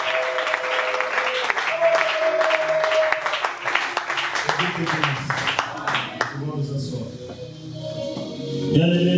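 A church congregation at a Thursday Christmas service applauds in brisk, sustained clapping for several seconds. Voices and singing rise as the clapping fades.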